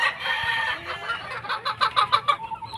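Chickens clucking and calling close by, a burst of rapid repeated squawks building toward the end of the short stretch.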